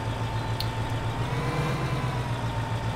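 Tractor engine from the Farming Simulator 2015 video game, a steady low droning hum running continuously throughout at moderate level, with no talk over it.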